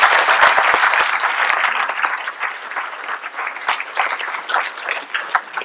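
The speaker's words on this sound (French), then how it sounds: "je pense qu'on peut les applaudir" A crowd at an evening tribute applauds warmly and continuously, a dense close wash of clapping with a few sharp individual claps near the start that holds steady throughout.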